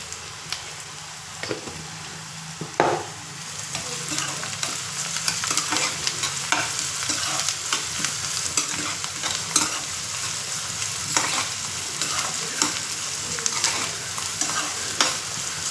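Sliced onions fry with coarse salt in a pan for a village-style country chicken curry, a steady close sizzle broken by repeated scraping stirs of a spoon against the pan.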